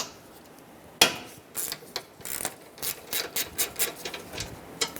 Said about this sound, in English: You'll want to use a 13mm socket. Break this free and remove the mounting nut.